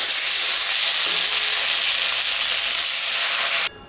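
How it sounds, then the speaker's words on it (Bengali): Loud, broad hissing sizzle from a pan as water hits fried ginger and cumin spice paste, steady and close, then cutting off abruptly near the end; no talk. "মশলাটা ভাজা হয়ে গেছে, আমি এখন সামান্য জল দিয়ে দিলাম।"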